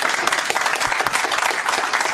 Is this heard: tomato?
no